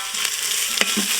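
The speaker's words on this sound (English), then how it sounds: "Give it a stir." A spoon stirs green cardamom and turmeric into lamb pilaf in an Instant Pot, giving two or three short scraping strokes against the pot, close and fairly quiet, with no talking.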